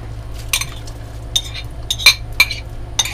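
Chopped onion and celery tipped into an Instant Pot, heard as a few light clinks and scrapes of a utensil against the pot, spaced irregularly over a steady low hum.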